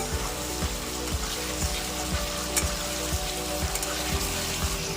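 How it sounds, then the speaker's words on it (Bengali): Masala with grated tomato sautéed in a pan for onion chicken masala: steady broadband sizzle and hiss throughout, with regular low scraping or stirring thumps, fairly close and moderately loud, no talking. "এবার ভালো করে মশলাটা কষিয়ে নেব"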